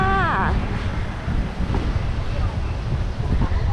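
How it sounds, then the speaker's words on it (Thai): Strong wind at Bangsaen beach buffets the microphone in loud, steady gusts, with a faint wash of sea and a voice briefly heard at the start. "ลมอาจจะแรงนิดนึงนะคะ"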